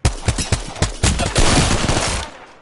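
Rapid video-game gunfire, close and loud: a run of separate shots settling into a dense automatic burst that trails off near the end, with no voices over it.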